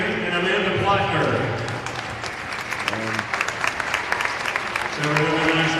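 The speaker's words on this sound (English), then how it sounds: "So a nice round of applause for your Lady Tigers." Arena crowd applauding the Lady Tigers girls basketball team at an Ozark vs Republic game, a steady wash of clapping with a loud announcer's voice talking over it throughout.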